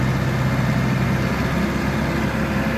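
A TYM 5835R tractor engine runs at a raised idle of about 2,000 RPM, a steady, loud diesel drone with a low hum and no change in pitch, with no talking.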